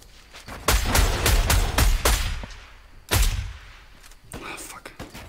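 Sniper rifle fire in Fortnite: loud, sharp cracks come in a quick cluster and then a single later shot, each with a short echoing tail, alongside some quiet game noise.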